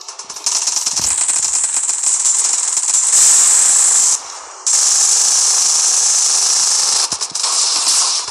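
Gunfire in the 2004 game Earth Protect Squad, a continuous loud hissing stream of rapid shots that runs on for seconds, with brief breaks before firing resumes.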